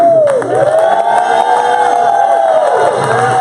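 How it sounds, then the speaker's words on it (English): A large crowd cheers and whoops loudly and continuously at a Karatbars World Tour 2018 event, a roaring wash of voices filling a big room. "Please give a rousing round of applause to our MC for this event, Karatbars VIP affiliate, Mr. Cameron Gamble"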